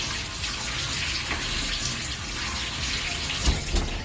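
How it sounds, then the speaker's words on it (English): Tap water runs steadily as beans and olives are rinsed in a kitchen sink, a continuous close splashing with a few louder gushes near the end. "So you just wash the beans and the olives off a bit"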